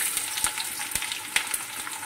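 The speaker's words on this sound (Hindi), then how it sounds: "अब प्याज को अच्छी तरीके से भून लूँगी" Onions added to oil already holding fried red chilli, panch phoron and bay leaf, sizzling and crackling steadily near the pan, with scattered sharp pops and a stirring scrape or two.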